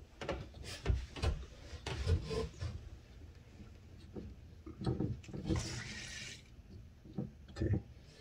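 Water rushes and hisses through a supply line into a countertop ice machine in uneven bursts, with clunks and knocks of handling mixed in, fairly close.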